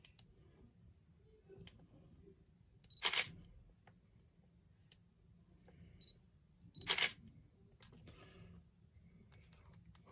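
A single-lens reflex camera shutter fires twice as two sharp, close mechanical clicks several seconds apart, with fainter ticks and handling noise in a quiet room.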